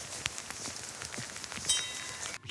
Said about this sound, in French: Qu'est-ce qu'il pleut à Chaumont-Gistoux?